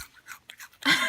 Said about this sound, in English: Chew it nicely. Chew it. I want to hear chomping.